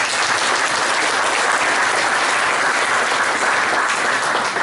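An audience at a trade-union congress in France applauds, producing a loud, even, continuous patter of many hands clapping throughout, with no pauses or talk.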